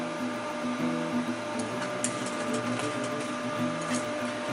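Sewing machine stitching buckles onto the back panel of a chest pouch, running as a steady, close mechanical whir with a fast even needle rhythm throughout.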